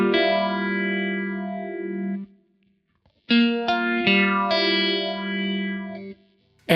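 An electric guitar runs through a Phase 90 phaser profile on a Kemper Profiler, its sustained chords sweeping with a clear swirling phase, then a short silence before a few more strummed chords, loud and close with no talking.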